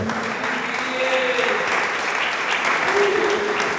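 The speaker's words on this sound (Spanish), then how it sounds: "Dele palmas al Señor." Steady applause from a church congregation praising the Lord, a dense even wash of clapping that holds throughout, with faint voices beneath.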